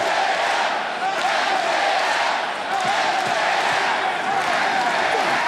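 A large arena crowd at an AEW wrestling event roars and chants for MJF, a dense, loud and continuous wall of voices with no break.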